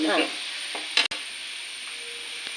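A spoon stirs thoran in a cooking pot, giving a soft sizzle with a few scraping strokes and one sharp knock against the pot, close by and brief.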